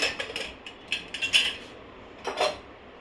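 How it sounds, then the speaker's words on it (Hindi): A cooled pressure cooker lid is twisted open in a home kitchen, giving a run of metallic clinks and scrapes, a louder clatter partway through and a final clank, all close and with no talking. "कुकर अच्छी तरह ठंडा हो चुका है, इसे खोल के मैं चेक करती हूँ।"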